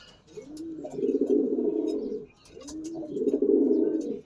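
A racing pigeon cooing up close, two long throaty rolling coos with a short pause between them.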